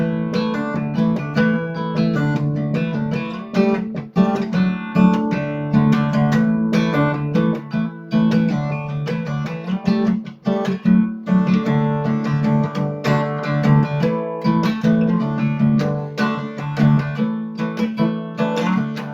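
A steady, chugging guitar riff in open C tuning plays on its own, repeating with a driving rhythm and ringing, resonant chords.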